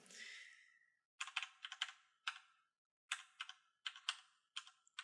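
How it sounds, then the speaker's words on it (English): Quick bursts of typing on a computer keyboard, clustered clicks in short runs separated by brief pauses, close and fairly quiet, no talk. "Start hitting F keys."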